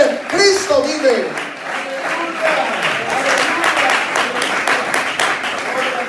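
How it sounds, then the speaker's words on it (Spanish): Church congregation applauding during a Spanish-language worship service, a lively mass of clapping mixed with cheering voices and singing-like tones throughout. "Aplausos a Jesús en esta hora, aleluya."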